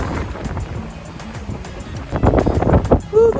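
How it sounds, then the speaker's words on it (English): Strong wind gusts buffet the microphone on Shoreline Boulevard in Corpus Christi, Texas, a rough, roaring rush that swells louder toward the end, with a person briefly exhaling and speaking near the close. "Whew, the wind is blowing hard."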